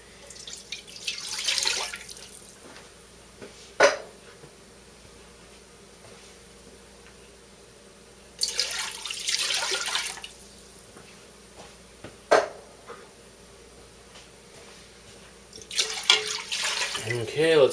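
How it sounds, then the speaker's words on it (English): Seafood soup poured into a stainless steel pot, with three bursts of liquid splashing and trickling, each lasting a couple of seconds and separated by quieter gaps and a few sharp clinks. "we're going to pour the soup into our stainless steel pot here"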